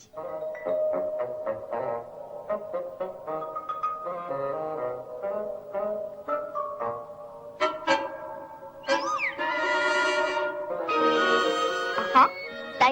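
A cartoon cat in the Polish animated series Adventures of Filemon the Cat meows repeatedly in drawn-out, tonal cries, some rising and falling, over a continuous musical background.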